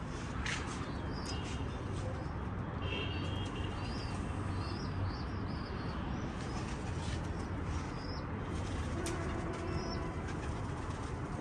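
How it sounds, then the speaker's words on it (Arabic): Pigeons coo and small birds whistle and chirp at a moderate distance, their calls continuous over a constant hissing background. "هسه نصت الطيور بالي مو يما ذا قلب بالتليفون اسمع الصفير"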